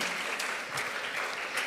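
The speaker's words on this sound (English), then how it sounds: "Let's show our gratitude to Aniruddha with a warm round of applause" An audience at a TED-Ed student talk claps steadily in a warm round of applause, a dense even patter of many hands, loud and continuous from start to end.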